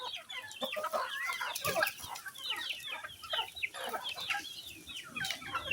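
A flock of backyard chickens clucks busily and continuously at close range during feeding time, with overlapping short calls and faint scratching.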